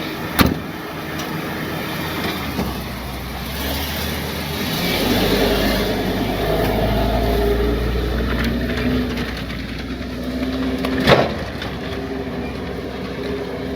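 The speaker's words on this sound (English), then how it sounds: "Now my heavy wrecker is back from the shop with the auto chains ready to go" A heavy wrecker tow truck fitted with auto chains idles with a steady low engine rumble, swelling briefly in the middle, with a couple of sharp clanks at the start and near the end; no voices.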